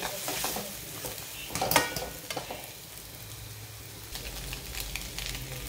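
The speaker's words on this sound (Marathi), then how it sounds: "जरा थोडंसं हलवून घेते म्हणजे एकदम सुकी आपली पटकन झटपट अशी होणारी भुर्जी आहे" Egg bhurji being stirred in a frying pan with coriander added, giving soft scraping and light sizzling that is faint and intermittent, with a brief louder burst of scraping near the start and no talking.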